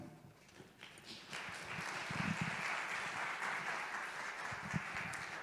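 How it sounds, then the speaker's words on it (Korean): An audience at a church youth lecture event applauds the lecturer, a wash of many hands clapping that swells after a quieter start and holds steady, fairly distant and roomy. "우리 귀한 강의해 주신 우리 강사님께 다시 한 번 더 큰 박수 하겠습니다"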